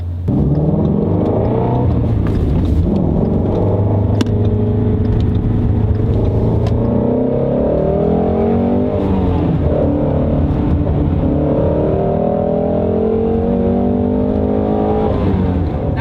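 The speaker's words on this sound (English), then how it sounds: "it just keeps pulling and pulling and pulling harder and harder, all the way up to redline at 8250" A Shelby GT350 V8 engine roars continuously and loudly, its pitch climbing repeatedly as it revs toward an 8250 rpm redline, with gear changes breaking the rising sweeps.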